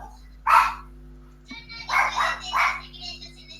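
A dog barks close by, one bark followed by a quick pair after a pause, over a low steady hum, with a brief faint whimper between them.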